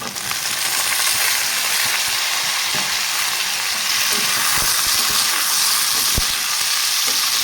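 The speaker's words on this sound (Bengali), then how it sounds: "পেঁয়াজটা আমি হালকা ব্রাউন করে নিয়েছি দিয়ে দেবো আগে থেকে সিদ্ধ করে রাখা ফুলকপি আলু" Pre-boiled cauliflower and potatoes frying in a pan with lightly browned onions; a loud, continuous close-up sizzle with occasional stirring clicks and no speech.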